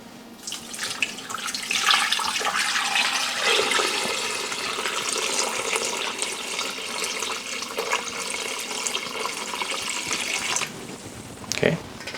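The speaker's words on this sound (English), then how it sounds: "We add in water, just enough to cover the pork." Water from a tap pours steadily into a pot until it covers pieces of pork, a loud continuous splashing rush that cuts off near the end.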